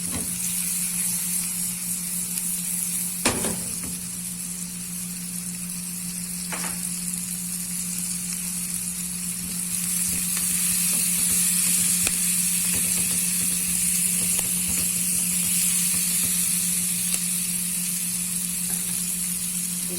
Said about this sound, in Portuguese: Deixa ela dar uma grelhadinha.